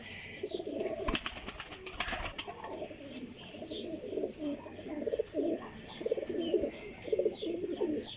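Pigeons coo in soft, repeated rolling phrases at close range, with a brief flutter of wings near the start and faint background noise.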